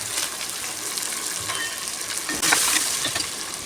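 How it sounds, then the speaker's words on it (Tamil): Onions frying in a pan with curry leaves, a steady broadband sizzle with a few soft stirring clatters, growing slightly louder and brighter toward the end, with no talking. "வெங்காயம் கொஞ்சம் நல்லா வதங்கட்டும். வதங்கிட்டு கொஞ்சம் கருவேப்பிலை போட்டுக்கலாம்"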